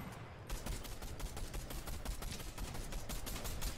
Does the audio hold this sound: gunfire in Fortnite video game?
yes